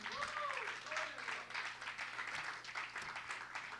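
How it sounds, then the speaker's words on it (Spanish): Broadband congregation clapping at a church prayer service fills the clip, steady and continuous, with a voice speaking briefly over it near the start. "Dale palmas al Señor."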